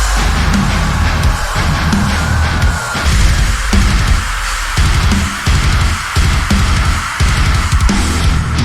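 Dense, loud metal, with heavy low-end drums and guitars pounding in a steady driving rhythm, no talking over it.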